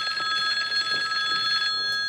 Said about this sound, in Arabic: شوف شكون في التليفون